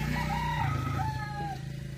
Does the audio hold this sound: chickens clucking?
yes